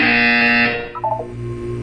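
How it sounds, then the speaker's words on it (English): A loud harsh electronic buzzer blares in the Portal 2 video game, a sustained droning tone that cuts off after under a second, followed by softer tonal effects and a low hum. "You will hear a buzzer."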